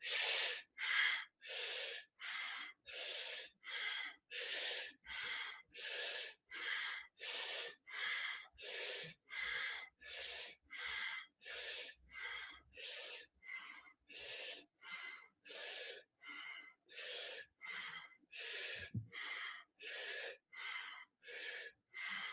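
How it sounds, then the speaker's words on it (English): Deep rhythmic yoga pranayama breathing, air drawn in through puckered lips and pushed out through the nose, dozens of steady, evenly paced breaths close to the microphone with nothing else heard. "Inhale through puckered lips, exhale through the nose."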